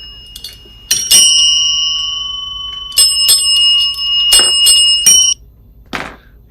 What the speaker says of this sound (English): The bells will wake up anyone who's still in the chat that has fallen asleep.